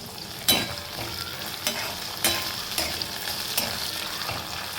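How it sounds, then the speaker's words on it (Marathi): Potatoes fry in a pan, loud and close, with a steady sizzle and about six scraping stirs in an uneven rhythm, and no voices. "बटाटे एकदा हलवून घेऊ आपण"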